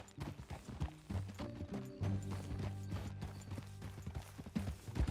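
Rhythmic clip-clop of horse hooves trotting steadily at close range in the video game Red Dead Redemption 2, with faint creaks and a soft musical drone underneath.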